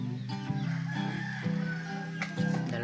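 Two hens clucking and calling close by, a busy run of harmonic squawks with a short burst near the end.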